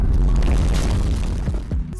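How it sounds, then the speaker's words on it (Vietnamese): An explosion sound effect played on a live stream, a loud booming blast with deep low rumble that rolls and decays over two seconds, with a few smaller thuds near the end. "âm thanh tiếng nổ"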